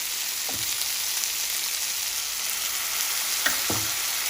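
Kimchi fried rice sizzles steadily in a pan while chili sauce and soy sauce go in, a constant close frying hiss with a couple of soft clinks from utensils.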